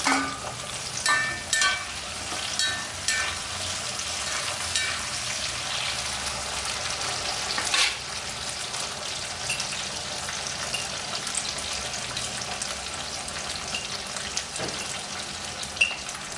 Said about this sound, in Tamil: இப்போ தக்காளி கூட சேர்த்துக்கலாம்